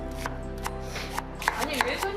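A knife chops food on a cutting board in a community kitchen, a handful of sharp, distinct knocks at an uneven pace, close and clear over a steady low hum.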